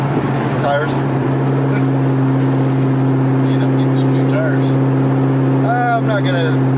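A cammed Ford SVT Cobra Terminator holds a loud, steady engine drone up close as its tires spin, with brief chirping squeals breaking through and voices in the background.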